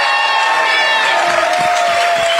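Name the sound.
live crowd cheering at CPAC pre-show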